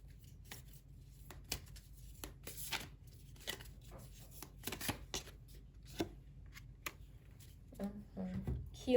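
Oracle cards are shuffled by hand in soft, quiet bursts of riffling and sliding, close up and intermittent, with a faint voice near the end.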